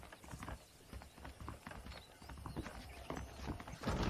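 Horses clip-clop under saddle in the Red Dead Redemption video game, a faint steady patter of hoofbeats over a low background bed.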